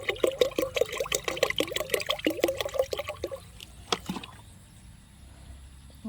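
Rice-water microbial solution is poured out in a steady, close trickling stream for about three seconds, followed by a couple of brief splashes and then near quiet.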